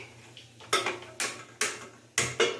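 A metal cooking pot is handled on a kitchen stove, giving five sharp metallic clanks at uneven intervals over a low steady hum.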